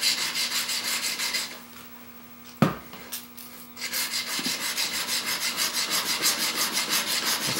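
The back of a woodworking chisel, previously ground on a belt sander, is rubbed back and forth on a sharpening stone in rhythmic gritty rasping strokes, close and loud, with a brief pause and a knock midway and no talk.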